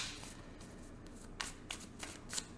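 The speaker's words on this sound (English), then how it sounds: "Let's pull 3 outcome cards." Tarot cards being shuffled and pulled by hand, a soft continuous riffling hiss broken by a few crisp flicks and snaps near the end, close and quiet with no talking.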